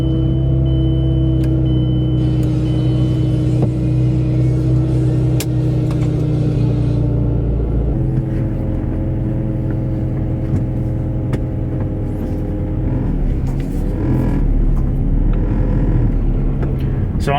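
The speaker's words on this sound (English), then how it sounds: "this thing sounds excellent with the exhaust" A 2007 Mazdaspeed3 with an HKS exhaust on a test drive gives a loud, steady engine drone and exhaust rumble heard from inside the cabin, shifting pitch partway through as the car moves.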